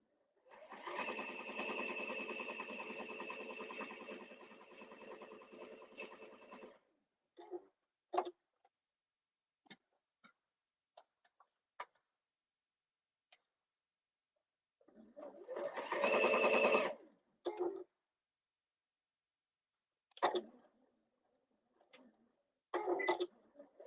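A sewing machine stitches down the sides of a pocket, running in a long steady whir, then stopping, followed by shorter bursts of stitching with clicks and pauses in between.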